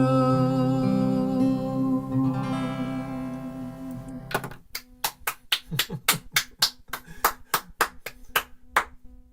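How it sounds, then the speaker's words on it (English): A few people clapping: about a dozen sharp, fairly loud claps in an uneven rhythm, following a sustained musical tone that fades out just before them. "I feel I have to clap twice as hard because there are two of you clapping me"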